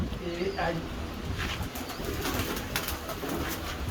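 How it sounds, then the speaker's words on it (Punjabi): Pigeons coo softly in a steady background of rustling and ambient noise, with a few low throaty calls near the start. "ਇਹ ਕਬੂਤਰ ਮੇਰਾ ਅਜ਼ਮਾਇਆ ਕਬੂਤਰ ਆ ਜੀ"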